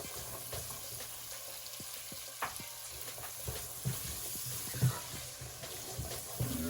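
Chorizo frying in a pan of rice with cilantro, giving a steady close sizzle broken by intermittent spoon scrapes and knocks as it is stirred, with no voices.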